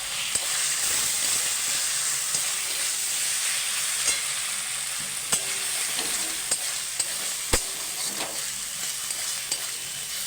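Pointed gourd (potol) fries in cooked-down spice masala with little oil, a loud continuous hiss and sizzle broken by occasional spatula clicks and scrapes, close up and without speech.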